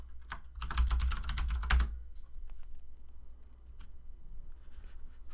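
A quick burst of typing on a computer keyboard: rapid, dense key clicks for about a second and a half, then a few scattered, softer keystrokes in a quiet room.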